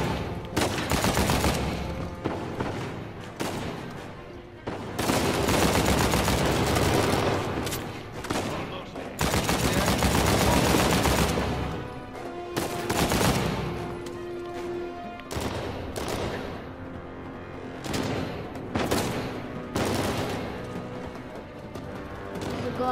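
Gunfire from a firefight in the PS4 game Uncharted 4: A Thief's End, with loud, dense bursts of shots that come in waves and fill the scene, and a voice talking now and then.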